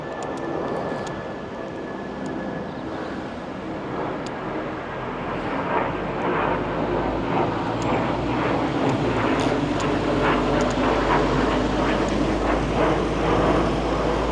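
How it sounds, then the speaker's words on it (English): A drone flies overhead outdoors with a continuous whirring motor drone that holds steady and grows slightly louder over the span, with no talk. "I do what I want with my drone because it's allowed to fly over, man"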